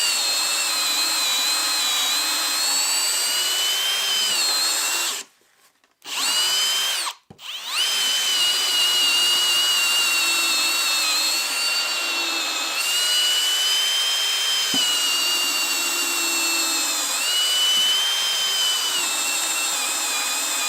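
A Kobalt or Milwaukee drill driver bores a 1/2-inch hole with a loud, high, steady whine, briefly stopping twice near the start before spinning continuously again, its pitch wavering slightly under load.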